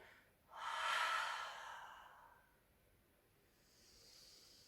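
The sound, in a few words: breathing out during a Pilates exercise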